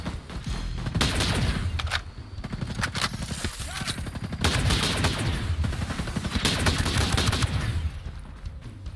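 Rapid automatic gunfire from the Terminator event weapon in Ghost Recon Breakpoint, loud sustained bursts with brief pauses between volleys, fairly close.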